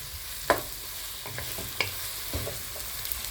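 Onions sizzle in a pan with tomatoes, capsicum, tomato paste and soy sauce for a pork wet fry. A spatula scrapes and taps in a few scattered strokes over a soft, continuous frying hiss, and nobody speaks.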